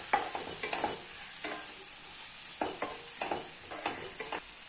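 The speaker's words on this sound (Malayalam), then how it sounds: "ഇത് ഒന്ന് നന്നായി വഴറ്റിയെടുക്കണം" Tomato slices sauté in a hot pan with a steady sizzle, while a spoon stirs them in repeated scraping bursts, close and clear with no voices.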